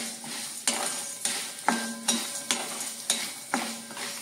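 Cinnamon and black pepper roasting in a little oil in a pan, with a steady soft sizzle broken by a regular series of metal spoon scrapes and clinks against the pan, close and alone.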